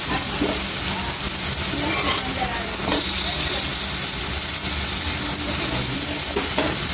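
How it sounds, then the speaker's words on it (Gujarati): Apple slices for tandoori apple roast on a hot pan, making a loud, steady hiss and sizzle that runs throughout, with faint scraping as pieces are handled. "એને થોડી વાર આપણે શેકવા દેવાનું છે"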